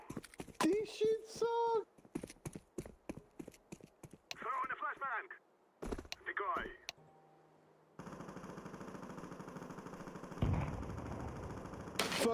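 Rapid, sustained Negev machine gun fire in a video game, a dense continuous burst lasting several seconds that follows excited voices talking over game sounds.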